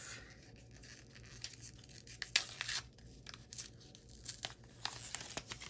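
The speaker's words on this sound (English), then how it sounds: "I'm going to go ahead and get this paper off." Paper wrapping torn and crinkled off a spool of festive twine, several close, quiet rips and rustles at irregular intervals with no talking.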